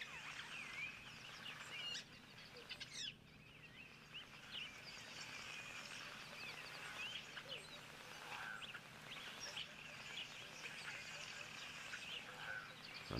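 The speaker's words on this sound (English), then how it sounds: "A number of weavers can hear at the moment, a couple of starlings too." Weavers and starlings chatter and call in the open bush, with many overlapping high chirps and whistles running steadily throughout at moderate distance.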